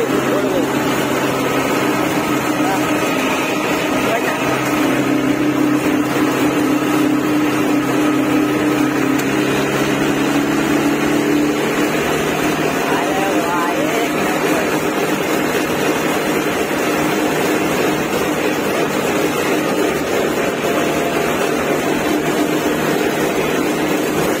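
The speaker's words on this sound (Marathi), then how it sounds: "आपल्या ट्रॅक्टरची स्पीड खूपच जोरात झालेली आहे." An old farm tractor's engine runs at speed on a smooth rural road in Maharashtra, a loud continuous drone with steady mechanical hum and road rumble filling the whole stretch, no pauses and no talk.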